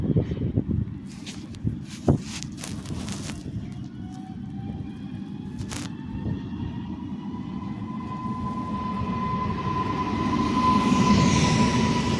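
An Impuls train departs from Warszawa Włochy station with a few clanks and bangs at first, then a steady rolling rumble and a rising tonal hum that grows slightly louder as it pulls away.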